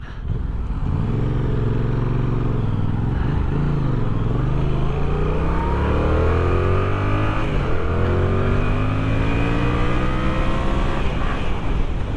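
A 2023 Yamaha MT-07 motorcycle rides along with a loud, steady engine note that climbs and drops repeatedly through gear changes, recorded close up from the rider's position.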